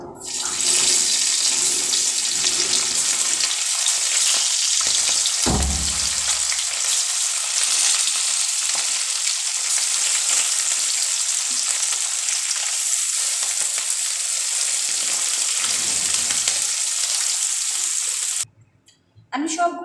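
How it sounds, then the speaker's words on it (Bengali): Small puti fish fry in hot oil with a loud, dense, continuous sizzle up close, broken by a brief clatter early on and cutting out sharply near the end. "এইভাবে আমি বাকি মাছগুলোকেও ভাজা করব"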